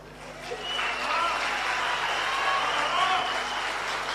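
Audience applause at a municipal infrastructure launch event swells within the first second and holds as a steady, moderately loud round of clapping from a crowd.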